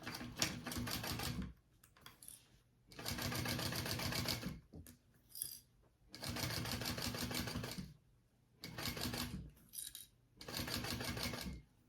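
Stitching bursts from a sewing machine running a second row along a tote bag seam at an eighth-inch allowance, with four or five steady runs of whirring broken by short pauses, close and clear with no talk.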